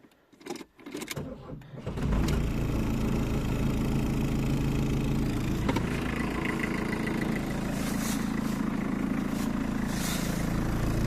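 A cheap used estate car's engine starts up and settles into a steady, loud idle with rumbling vibration, a few brief rev swells rising out of the drone near the microphone.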